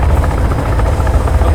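A helicopter in the video game Sons of the Forest drones with a loud, steady low rotor thump and engine rumble, close and continuous with no voices.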